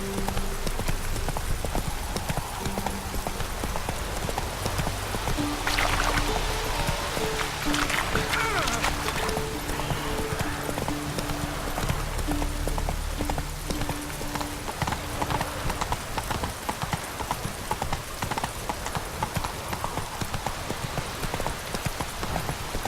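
Horse hooves clip-clop at a steady gallop in The Witcher 3, loud and close throughout, with game music and ambient effects underneath and bursts of rushing noise partway through.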